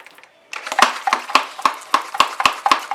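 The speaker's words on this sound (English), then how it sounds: "I'm using the Flowmaster half-gallon sprayer. That's why there's that pumping noise." A Flowmaster half-gallon pressure sprayer being hand-pumped indoors, about a dozen sharp rhythmic pump strokes at a steady pace after a brief quiet start, close and clear.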